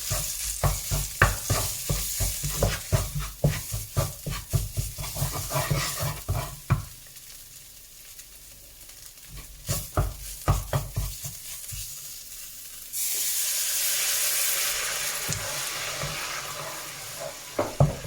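Thai red curry paste stir-fried in a pan for a pork belly and long bean dish, with steady scraping spatula strokes over a sizzle that surges louder near the end.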